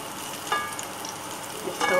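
Tuna, garlic and peppers sauté in a hot pan with a steady, close sizzle and crackle, plus a couple of brief scraping stirs.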